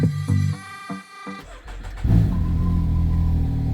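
A Can-Am BRP Maverick X3 Max X RS Turbo RR buggy cranks with a few starter bursts, catches, then settles into a loud, close, steady idle with a brief rev.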